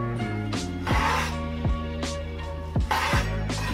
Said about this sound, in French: je vais venir tailler des petites lamelles assez fines